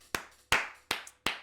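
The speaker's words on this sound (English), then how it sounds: "I have to clap it up one more time." Four sharp hand claps at a steady, deliberate pace, close and loud with short decays and silence between, following a Barcelona 3-2 win over Real Madrid.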